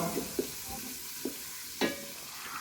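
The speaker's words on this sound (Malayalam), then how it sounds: "അപ്പോൾ നമ്മൾ ഈ ഒരു പാത്രത്തിലേക്ക് സവാള ഇട്ട് കൊടുത്തിട്ടുണ്ട്." Sliced onion fries in a pot with cinnamon, cloves and cardamom for ghee rice, a soft sizzle underneath while a spoon stirs, scrapes and knocks against the pan a few times at close range.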